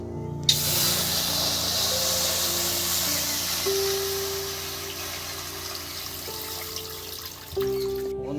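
Water hisses and splashes into a hot wok while cooking potato chotpota, a steady spraying sizzle that starts abruptly and fades slightly, with faint kitchen hum underneath.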